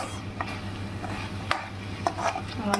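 A vegetable curry simmers on a gas stove while a spoon stirs it, with a low bubbling bed under several sharp clinks and scrapes against the pot, no talking.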